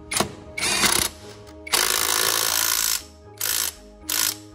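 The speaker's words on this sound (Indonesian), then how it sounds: "Terus dikencangkan lagi menggunakan impact juga." Impact wrench tightening the rear CVT clutch and clutch bell on a Yamaha XMAX 250 scooter: four loud, rattling bursts of differing length, the longest over a second, separated by short pauses.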